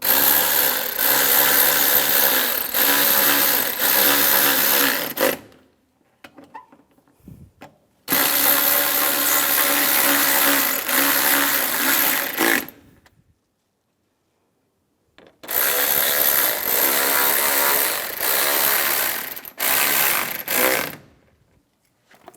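A power tool drives bolts on the intake manifold of a 2004-2010 BMW X3, whirring loudly in three long bursts of about five seconds each, separated by near-silent pauses.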